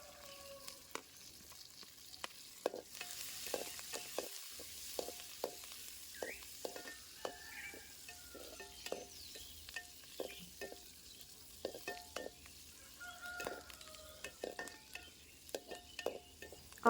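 Curry leaves, green chillies and onions fry with golden cashews in a pan, a faint low sizzle under repeated light clicks and taps of a stirring spoon spread across the whole stretch, with no voices.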